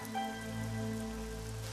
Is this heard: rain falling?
yes